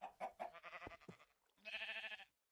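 Goats bleat in Minecraft, a few short nasal cries followed by one longer, louder bleat, close and clear with no talking.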